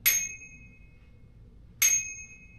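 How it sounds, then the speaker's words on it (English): Two sharp rings of a bicycle bell on a Velotric T1ST e-bike, close and clear, spaced well apart with quiet between them. "It makes noise, but I'm going to change it when I get another spur cycle bell."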